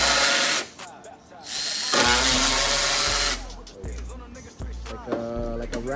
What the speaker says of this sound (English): the fuel ratchet, this thing, sometimes you don't even have to break it loose